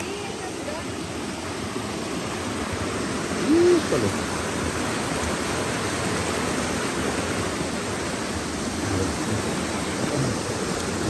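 Waterfall on the Apulco river, a broad, steady roar of rushing water heard up close and filling the whole clip, with a brief exclamation spoken over it.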